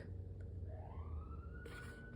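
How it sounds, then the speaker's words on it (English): A faint siren rises in pitch in the distance over a low background rumble. "Oh, there's a siren."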